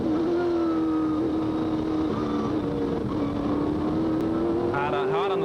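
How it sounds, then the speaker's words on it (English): Onboard sports sedan race car at Oran Park under hard throttle, a loud, continuous engine roar with a strong steady tone that dips and climbs slightly, a quick upshift-like warble near the end, with a voice talking over it. "Hard on the throttle now up onto the main straight"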